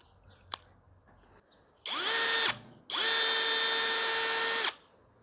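A Parkside Performance PBSPA 12 C3 cordless drill-driver on a fully charged 2 Ah battery whines up in two close, loud runs, a short burst and then a longer steady spin, each ramping up and cutting off, after a single click.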